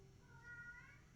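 A cat meowing alone in a hallway, a single faint drawn-out cry with a rising and falling pitch.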